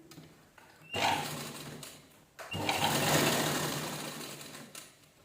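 A sewing machine stitches fabric from leftover blouse pieces into a mixer cover, running in two close, loud bursts: a short one of about a second and a longer steady run, separated by brief pauses.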